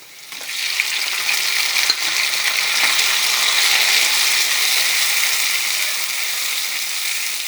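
Tomatoes dropped into frying onions in a pan for tomato rasam, a loud close sizzle swelling at once and then hissing steadily with a few light clinks.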